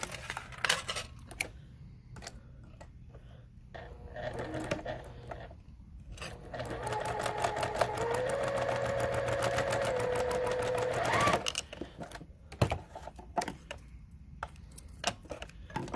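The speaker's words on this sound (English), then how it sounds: "We're going to stitch along that line." Sewing machine stitching fabric along a marked line for a quilt block, a fast steady whirring run of several seconds that rises slightly in pitch before stopping, with quieter handling clicks before and after.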